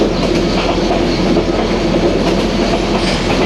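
Passenger train on the Dhaka to Cox's Bazar line running steadily, a loud continuous rumble of wheels and carriages with faint clickety-clack, heard from on board with no voices.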